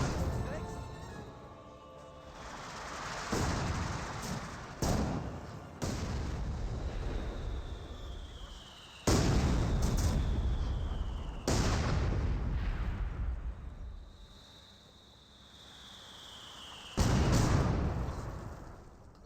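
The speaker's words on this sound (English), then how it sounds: "More mortar hits here." Mortar shells land with deep, rumbling booms in the World War II strategy game Company of Heroes 2, several blasts spaced seconds apart under steady spoken commentary.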